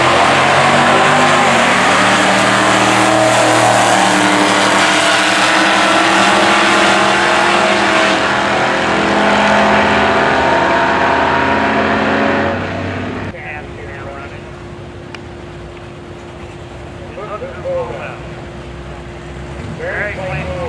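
Junior stock drag racing cars at a Tri 5 Nationals drag strip roar loudly at full throttle for several seconds, then the noise cuts away to quieter track ambience with a voice talking.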